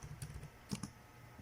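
Several quick taps on a computer keyboard as a file name is entered, faint and close, in short irregular bursts with pauses between.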